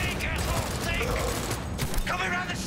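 Gunfire in a Cyberpunk 2077 gang shootout, rapid bursts of shots crackling over a dense backdrop, with someone talking over the action.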